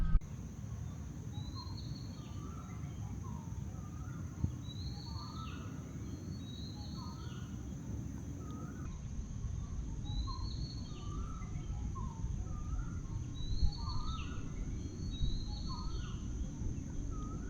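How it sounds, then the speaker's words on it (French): Scattered bird calls and short chirps ring out over a constant low rustling wash of wind, birds sounding somewhat distant. "le chant des oiseaux, une petite brise et puis ma voix"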